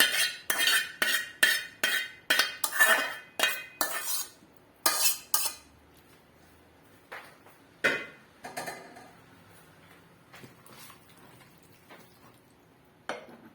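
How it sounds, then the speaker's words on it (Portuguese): Utensil scraping and clinking against a bowl while egg and onion are mixed for Paraguayan soup, in quick rhythmic bursts at first, then sparser, quieter clinks. "dei uma mexidinha ali no ovo, agora eu misturo"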